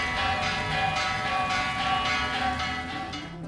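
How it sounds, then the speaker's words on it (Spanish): Large clock tower bells ring out steadily, several resonant strikes with long overlapping decay, loud and sustained with no voices. "activando las campanas cada 15 minutos y marcando cada hora"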